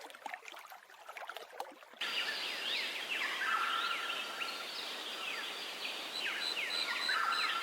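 Lewin's honeyeater, an Australian bird of the Sydney area, gives loud repeated rapid chattering calls that carry on steadily over a bright natural outdoor background, with no other voices present.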